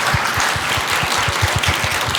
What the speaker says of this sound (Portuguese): Uma salva de palmas para o Carlos.